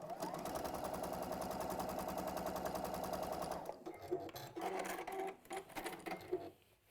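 Sewing machine stitching small fabric squares, a dense steady run of rapid needle strokes for several seconds, then stopping, followed by lighter handling and clicks.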